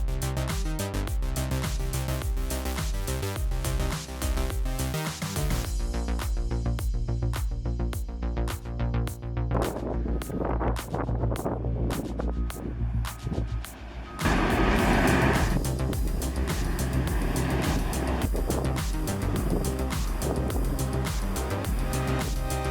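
A Caterpillar D11 bulldozer works in a rock quarry, its heavy diesel engine droning loud and continuous, with clanking track and ripper impacts and a surge in the final stretch.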